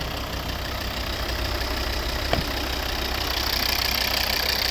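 A 2012 Volvo V70 AWD with a 2.4-litre five-cylinder D5 diesel engine and automatic gearbox idles steadily with a low, even rumble, plus one brief click partway through.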